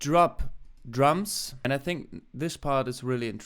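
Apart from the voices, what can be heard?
None of the usual background noises is heard.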